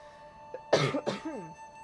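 A single person lets out a short double cough, a quick hack followed by a second rougher one with a throaty vocal tail, close and fairly quiet against a faint steady hum.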